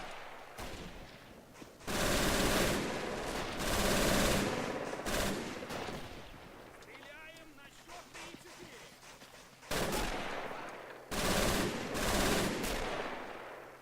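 Machine gun fire in the WWII strategy game Men of War Assault Squad 2, loud sustained bursts separated by short pauses, with distant explosions and battle noise between them.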